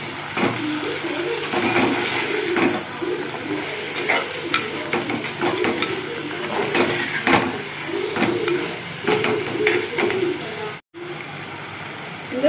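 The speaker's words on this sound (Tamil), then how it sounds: "மஞ்சத்தூளையும் சேர்த்து ஒரு வதக்கு வதக்கிடலாம்" Radish curry with turmeric sautéed in a pan, a loud close sizzle with repeated scraping strokes of a spoon, pigeons cooing nearby, and a brief drop to near silence toward the end.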